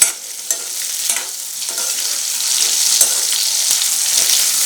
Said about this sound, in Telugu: నిజంగాను మెత్తళ్ళు ఇలా వేగాలన్నమాట, క్రిస్పీగా వేగాలి.